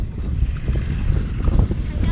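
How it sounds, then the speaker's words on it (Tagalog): Strong wind gusting in a rural onion-planting field in Occidental Mindoro, a loud, steady roar of buffeting across the whole clip. "Sobrang lakas ng hangin."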